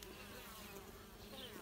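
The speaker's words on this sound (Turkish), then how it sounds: "Yerli arımız" Native honeybees buzz at the hive entrance, a soft continuous hum of many wings close by, faint and steady with no talk.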